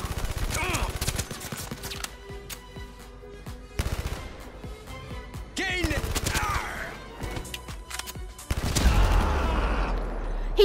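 Scattered gunshots and crashing impacts in the VR shooter Blood and Truth as a thrown grenade is shot, with loud bursts separated by quieter stretches of game noise and a heavy, low-pitched blast near the end.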